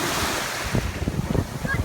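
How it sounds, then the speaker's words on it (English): Big ocean waves break and wash up at the beach, a loud continuous surf with wind buffeting the microphone and rising surges near the end. "These waves are kind of big, man."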